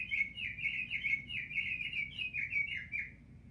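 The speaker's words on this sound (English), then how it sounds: "that's my bird clock, everybody, likes to always chime in the middle of my video" A bird-themed clock chimes with a recorded songbird call, a bright rapid run of repeated chirps and warbles that carries on steadily for several seconds, then trails off, clear against a quiet room with no talking.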